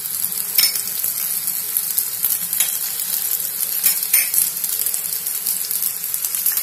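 Leftover roti frying in a pan with a light drizzle of oil, a loud close-up crackling sizzle that stays bright and continuous, speckled with sharp spitting pops, with no voices.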